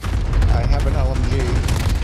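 Mortar fire in the video game Modern Warfare, a loud, continuous rumble of heavy booms and crackling gunfire, with faint tonal voice-like sounds mixed into the chaos.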